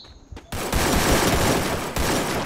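Dense, continuous automatic gunfire from the Free Fire mobile shooter game roars loud and close, starting abruptly after a brief quieter moment and sustaining with a short break near the end.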